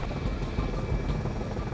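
A rescue helicopter on a night mission fills the space with a loud, continuous rotor and engine drone that throbs steadily throughout, with no voices.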